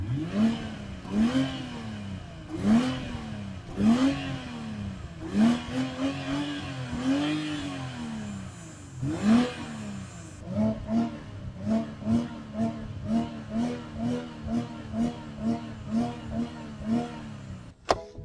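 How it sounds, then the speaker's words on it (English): BMW X5 engine revved while parked: a series of throttle blips rising and falling in pitch, first slower, longer revs, then a quicker run of short, evenly spaced bursts, close and fairly loud with no talking. "This is how the revving sounds like."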